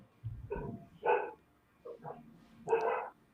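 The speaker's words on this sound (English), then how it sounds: "You've got a dog?" A terrier barks several times indoors, short yappy bursts spaced with brief gaps, fairly close and fairly loud, heard alone without talk.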